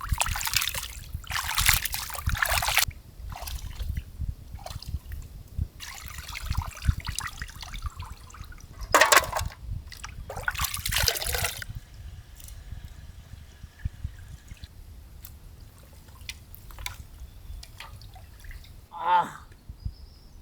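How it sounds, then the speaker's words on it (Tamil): Country chicken meat is washed by hand in water in a village kitchen, with intermittent splashes, drips and sloshing bursts as people talk nearby. "கறியை நல்லா கழுவி எடுத்துக்கணுமுக்கா."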